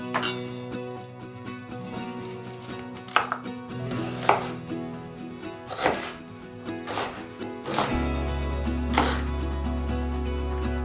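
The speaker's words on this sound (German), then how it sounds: "werden wir den Zwiebel schälen und ganz fein hacken." Irregular knife chops finely mincing onion on a cutting board, crisp and close, with several distinct strikes spaced over a steady low hum that grows louder near the end.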